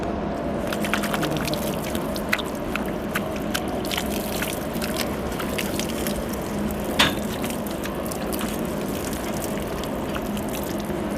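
Water mixed with povidone-iodine is poured to wash a cow's rear during a follicular cyst procedure, giving a steady wet splashing and trickling that runs unbroken, with no talking.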